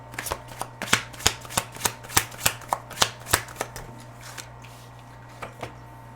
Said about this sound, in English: Let's grab one more card here.